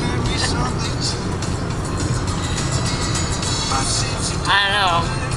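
A car speeding along the Autobahn at about 150 km/h, a steady loud road and engine roar filling the cabin with no letup, while people talk over it.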